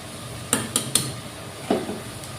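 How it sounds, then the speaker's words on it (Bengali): Metal utensil knocking against a pot while chopped onion is stirred and dal is added, several sharp clinks in quick succession then one more after a pause, heard alone. "পেঁয়াজ কুচি দিয়ে নাড়াচাড়া করে এখন আমি ডালটা দিয়ে দিব"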